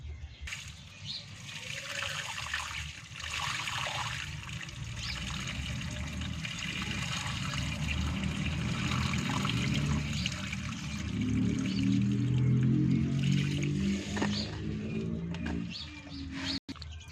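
Water is poured over soaking pigeon peas (toor dal) being washed, a steady splashing pour running throughout at close range, with a louder gurgling swirl near the end and no talking.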